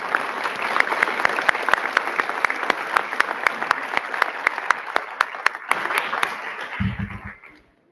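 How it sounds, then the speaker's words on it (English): Attendees at a school board meeting applaud honored staff, with many hands clapping and several sharp individual claps standing out near the front. The clapping fades toward the end and a brief voice is heard. "Let's give them all a round of applause."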